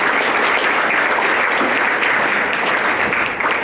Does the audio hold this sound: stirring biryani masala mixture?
no